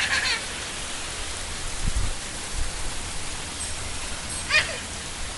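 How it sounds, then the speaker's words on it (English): Heavy summer rain pours down steadily near a parked car, a constant hiss of drops with a few brief splashes and knocks over it. "It's raining too hard over by Mommy's car."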